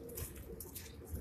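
Teddy pigeons on a Karachi rooftop give soft, low cooing over a faint background hum, with a few brief airy sounds layered above the calls.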